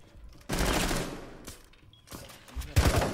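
Bursts of rapid gunfire in Rainbow Six Siege, a loud sustained volley followed by quieter scattered shots and a final close burst, with brief talk in between.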